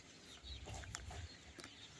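Chickens cluck intermittently at close range, a few short bursts of hen calls over low ambient noise.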